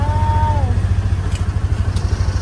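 A boat engine runs steadily with a low, pulsing drone and faint clatter, close by, while people talk over it.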